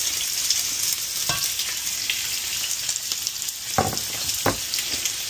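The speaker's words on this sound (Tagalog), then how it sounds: "isasutay ko muna ang sibuyas para maluto siya na maayos" Onions sauté in a pan with a steady, loud sizzle throughout, broken by a few louder stirring scrapes, close up with no voices.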